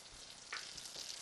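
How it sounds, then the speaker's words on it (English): Two tablespoons of butter melting in a hot pan give a steady, close sizzle with a soft crackle, heard alone without talk. "I've got the butter melting."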